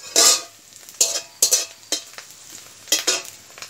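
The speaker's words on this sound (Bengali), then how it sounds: "কড়ার মধ্যে এখন আমি তেল দিয়ে দেব, তারপর এর মধ্যে পেঁয়াজ আর মরিচটা আমি দিয়ে দেবো" Onion and chili fry in oil in a wok, heard as a handful of quick, close stirring scrapes over a soft background sizzle.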